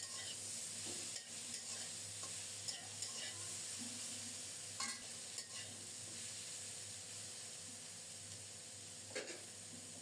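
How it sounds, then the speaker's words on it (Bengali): Potatoes with turmeric and green chilli fry in a pan with a soft, even sizzle and a few quiet clinks of stirring throughout. "1 চা চামচ হলুদ দিয়ে কাঁচামরিচ দিয়ে দিলাম। আলু সহ অল্প কিছুক্ষণ ভেজে নেব।"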